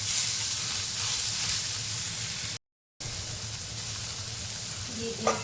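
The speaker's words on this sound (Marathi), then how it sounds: "भाजी टाकून घेऊया। भाजी छान आपल्याला परतून घ्यायची आहे।" Patrichi bhaji vegetables sautéing in a hot pan with onions in a Konkani home kitchen, a steady close sizzle and frying hiss running throughout, broken by a brief gap.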